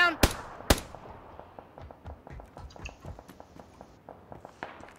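Video game gunfire cracks out as two sharp, loud close shots in quick succession, then fades into a run of lighter rapid pops and clicks with faint movement underneath.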